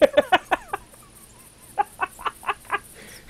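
A turkey call is worked while hunting, giving sharp clucking yelps in two close, loud bursts of about five and six notes, separated by a brief quiet gap.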